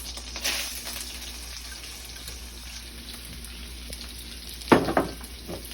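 Shallots hit a hot pan for shrimp hot pots, giving a sudden close burst of sizzling near the end after a low, steady background hiss with faint clinks.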